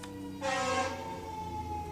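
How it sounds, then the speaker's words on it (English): A siren wails briefly in the distance, rising over a low traffic rumble before fading, with no one speaking. "sorry about that siren"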